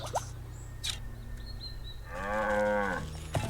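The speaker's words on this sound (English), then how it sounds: "there's a cow right there" A cow moos once, long and close, in the video game Wytchwood, after soft plinking game sounds and light chimes, with a short thud at the end.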